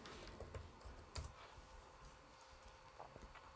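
Quiet typing on a computer keyboard, a loose run of soft clicks and taps at an uneven pace, close by with no voices.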